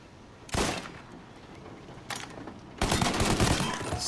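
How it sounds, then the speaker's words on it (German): Gunfire in the video game Mafia 1 Remake: a few loud bursts of shots, one short volley, a lighter one, then a sustained spray, over a low game background with no talk. "Schieß noch einmal, bis du nachladen musst."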